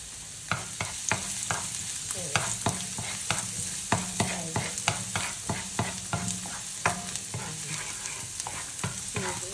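Garlic fried rice stirred and frying in oil in a pan, a steady sizzle beneath repeated sharp scrapes and clacks of the spatula in an uneven rhythm, close and fairly loud with no talking.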